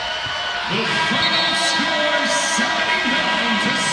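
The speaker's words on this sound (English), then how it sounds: "The North Carolina faithful behind the Tar Heel bench, up, cheering, roaring" North Carolina fans behind the Tar Heel bench cheer and roar at a women's NCAA tournament basketball game, a loud, sustained crowd swell with voices rising and falling throughout.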